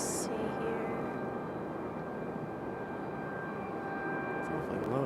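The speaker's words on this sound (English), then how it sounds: "It's awfully low, isn't it? It's a Cirrus SR-22." A Cirrus SR-22 propeller airplane passes low over the Raleigh Durham airfield as a steady, broad engine drone that stays fairly constant throughout, with faint background noise.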